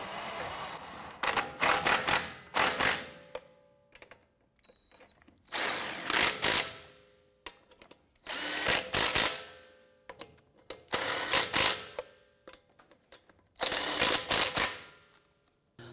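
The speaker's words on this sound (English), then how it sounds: "Let's go ahead and snug these lug nuts down." An impact or ratchet tool snugs lug nuts onto a 2011-2018 Ram 1500 wheel, sounding in five loud, close bursts of rapid mechanical rattling separated by short quiet gaps.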